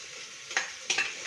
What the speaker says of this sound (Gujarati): ત્યાં અંદર નાખી અને એકદમ સરસ આવી રીતે હલાવી લઈએ